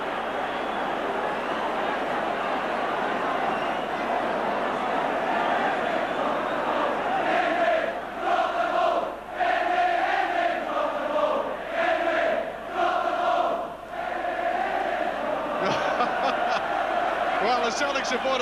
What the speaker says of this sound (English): You can hear from the crowd they didn't like that decision.